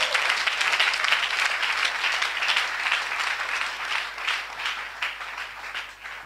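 A church congregation at an evangelical service breaks into loud, sustained applause, dense clapping from many hands that gradually thins toward the end.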